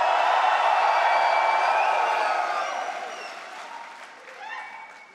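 A large crowd of graduates at a convocation ceremony cheers and applauds loudly, the roar holding steady before gradually fading, with a few whoops rising near the end.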